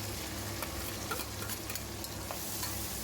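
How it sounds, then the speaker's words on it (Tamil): Chopped onion, garlic, green chilies and curry leaves sautéing in a hot pan give a steady, close sizzle with faint scraping stirs throughout, and no voices. "இந்த வெங்காயம் பூண்டு பச்சை மிளகாய் கருவேப்பிலை இது எல்லாமே நல்லா வதங்கின பிறகு"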